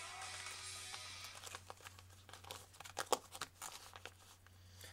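A plastic Ziploc bag of Redman chewing tobacco crinkles and rustles up close: faint handling at first, then a cluster of sharper crackles and snaps toward the middle, all quiet and without talking.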